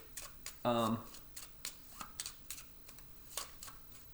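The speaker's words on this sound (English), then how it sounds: "I can just give this a little shuffle here for the encounter cards" Encounter cards for the Scythe board game being shuffled by hand, with a quick papery riffle followed by scattered soft card taps and clicks, close and quiet.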